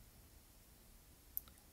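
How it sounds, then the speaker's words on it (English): A single small click comes from a StreamDogTV remote as its rewind button is pressed and held, faint and isolated in an otherwise quiet room. "by clicking and holding the rewind button."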